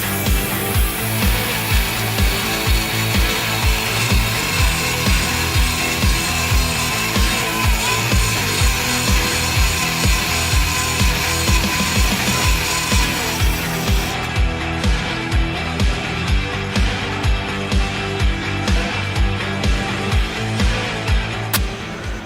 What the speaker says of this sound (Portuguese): Agora eu vou furar com a outra.